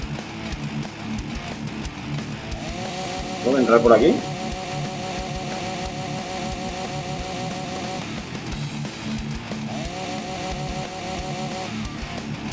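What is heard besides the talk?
chainsaw in video game Walking Zombie II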